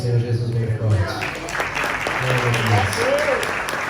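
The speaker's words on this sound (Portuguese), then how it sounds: "Aplauda o nome do Senhor Jesus bem forte." A church congregation claps loudly together in a sustained burst of applause while a preacher's voice carries over it.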